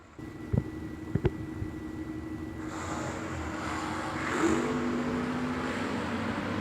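A wheelstanding drag racing van launches down the strip at a race event, a couple of sharp bangs followed by a rising distant engine roar that swells and carries on steadily.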